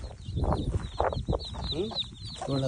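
Country chicks and hens on a desi poultry farm cluck and peep in short bursts close by, with someone talking over them.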